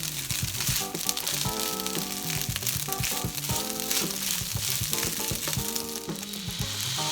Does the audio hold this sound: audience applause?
no